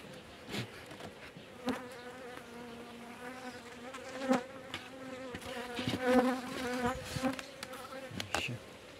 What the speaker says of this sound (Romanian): Albine, pleacă de aici.